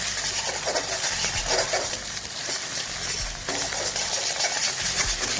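Two eggs sizzling in an oiled pan while a spoon breaks them into pieces, a steady loud frying hiss throughout with faint scraping and stirring taps underneath, no talk.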